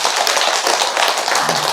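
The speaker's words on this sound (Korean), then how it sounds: "역시 여러분을 위해서 박수 한번 보내세요." A crowd at a Buddhist dharma talk in a temple claps together in a brief, dense burst of applause close by.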